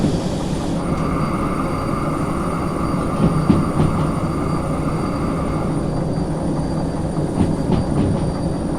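A train in the Derail Valley rail simulator rolls steadily along its track, with a loud, continuous rumble and sustained high tonal whine, plus faint clanks now and then, and no talking over it.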